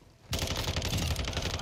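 Sustained automatic fire from an FSS Hurricane SMG in Call of Duty Modern Warfare II, starting abruptly after a quiet moment and rattling on loud and dense with rapid, steady shots.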